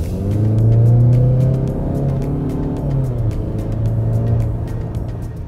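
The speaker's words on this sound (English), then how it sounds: "You press the pedal and you instantly feel the reaction" A 2019 Mazda 6 Wagon with a naturally aspirated engine accelerates, its engine note rising and falling in pitch through gear changes, a smooth close drone with light ticking on top, no talk.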